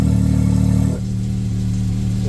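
A Can-Am X3 engine with a stainless cat-delete exhaust and an electric cutout set to the stock position, revving loudly for about a second and then dropping to a lower, steady idle hum.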